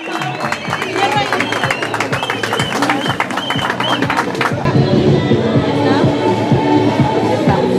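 An audience applauds and cheers as a cup queen is crowned with sash and crown at the opening of the seventh San Jacinto Cup, with steady, dense clapping close by and crowd noise under it.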